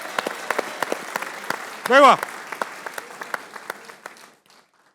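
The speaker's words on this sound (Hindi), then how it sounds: "उन सब के लिए तालियां होनी चाहिए" A studio audience claps steadily for a few seconds while a man exclaims over it, the applause fading out at the end.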